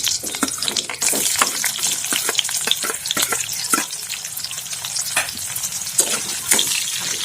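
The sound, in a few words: onions frying in pan for pork curry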